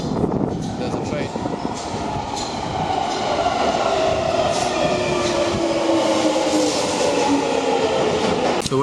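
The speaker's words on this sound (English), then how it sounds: "There's a train." A London Underground tube train rumbles loudly and continuously with rattling wheels and faint squeals, close by throughout.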